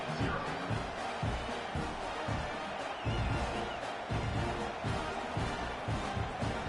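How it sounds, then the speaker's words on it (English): Large college football stadium crowd during a Notre Dame versus Texas A&M game after a touchdown, a steady, distant roar of murmuring fans that swells and dips without strong cheering peaks. "that last score took a little oomph out of this crowd"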